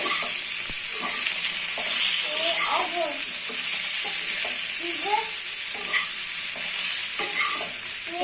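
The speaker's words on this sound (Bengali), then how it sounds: "এবারে আমি হালকা নাড়িয়ে নেব" Potatoes with cumin powder frying in a pan, a constant hissing sizzle under repeated scraping strokes of a spatula stirring, close and steady, with no talk.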